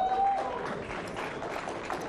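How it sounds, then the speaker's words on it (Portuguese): Applause for the fourth-place finisher at a live poker tournament, a dense, steady patter of clapping from the crowd that carries through the whole moment after a brief tone at the start. "uma salva de palmas"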